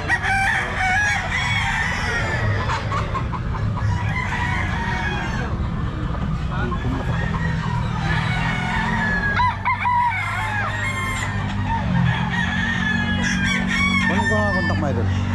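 A large batch of gamecocks from Bulacan crow loudly and repeatedly, overlapping one another over continuous clucking, with voices talking in the background of a busy fowl yard.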